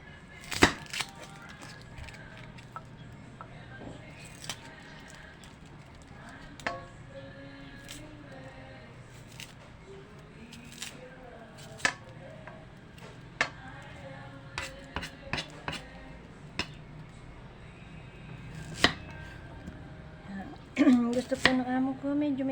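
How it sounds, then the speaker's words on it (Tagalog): A knife chops onions finely on a board in irregular bursts of sharp, close taps, with a steady low hum underneath and a voice speaking near the end. "Ngayon po umpisahan na po natin ang paggagayat."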